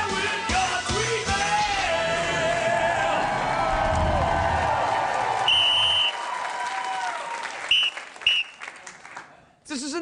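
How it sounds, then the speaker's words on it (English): Studio audience at a late-night talk show clapping and cheering loudly, a sustained dense wash of applause with whoops and yells, fading out near the end as a few voices carry over. "This is enough clapping"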